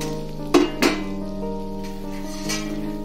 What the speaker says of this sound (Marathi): हे आता आपण वाटण चांगल्या प्रकारे परतून घेऊयात।